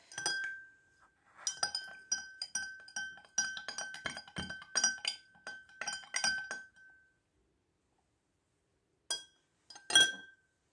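Aloe vera drops being stirred into water in drinking glasses, giving a quick run of light glassy clinks from a spoon against the rim, then a pause and a couple of brief final taps.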